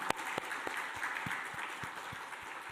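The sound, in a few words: congregation applauding in church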